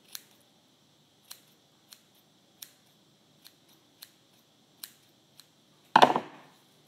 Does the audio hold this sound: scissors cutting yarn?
yes